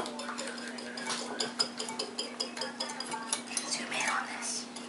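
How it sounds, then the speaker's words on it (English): Egg yolks being whisked for chocolate mousse, a wire whisk clicking quickly and steadily against a bowl, close and moderately loud, with a faint constant hum underneath. "you're going to whisk the egg yolks until they get really thick"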